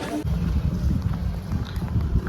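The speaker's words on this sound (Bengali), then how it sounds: "অন্যান্য জায়গা থেকে এই জায়গাটা প্রচুর হাওয়া" Strong wind near the Ganges buffets the microphone with a steady, heavy low rumble that carries through the whole moment.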